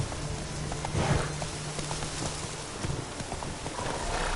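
Quick hoofbeats of a horse ridden at pace in The Witcher 3, close and rhythmic over a soft ambient wash, with a short snort or whinny near the start.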